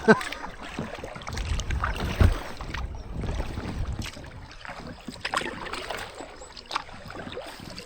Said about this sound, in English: we're paddling against the current, so we'll just keep going until we get fed up